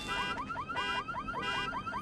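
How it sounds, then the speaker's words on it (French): A car alarm sounding in the Batman Begins game at Arkham Asylum, its electronic siren sweeping up and down in a fast repeating cycle, loud and continuous throughout. "C'est complètement débile une alarme de voiture ici."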